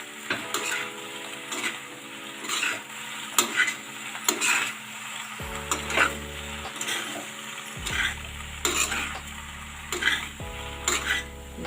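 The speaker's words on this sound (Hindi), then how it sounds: "अच्छे से मिक्स कर लेते हैं।" A spoon stirs cooked macaroni in a pan, scraping and clinking against the metal in repeated strokes over a soft sizzle, with a steady low hum in the background.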